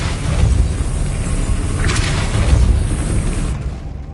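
A Depulso spell blast in Hogwarts Legacy, heard as a loud, sustained booming burst with a rumbling low body and a brief sparkling swell midway, fading out near the end.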